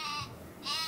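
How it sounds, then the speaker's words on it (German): Sheep weapon bleating in the artillery game Worms Armageddon: two bright, wavering baa calls a fraction of a second apart, fairly loud with no voices over them. "Und nimm das Schaf, Jonas"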